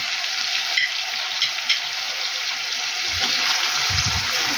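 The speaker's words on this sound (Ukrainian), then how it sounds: "Хай трошечки посмажиться сильніше." Onion frying in a hot pan, a steady loud broadband sizzle that runs throughout, close up, with a few faint clinks of a utensil and no talking.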